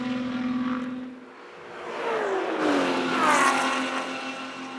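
Touring 3 class race cars at the SCCA Runoffs roar out of Thunder Valley, a loud engine drone rising and falling as cars pass in sequence, with whining revs sweeping through and no voices.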